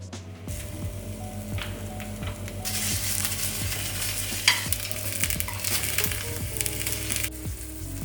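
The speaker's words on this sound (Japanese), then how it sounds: "フライパンに油をひいてナスを焼いていきます" Eggplant fries in oil in a frying pan, a dense close sizzle swelling louder after a quiet start, with scattered crackles and a few clacks of utensils, no talk.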